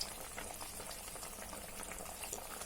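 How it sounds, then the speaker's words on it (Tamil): A pot of sardine curry bubbles and simmers with a dense, steady fizzing and soft popping, continuous and close, with no voices. "இப்போ இந்த பொடி போட்டு நல்லா கொதிக்க ஆரம்பிச்சிருச்சு"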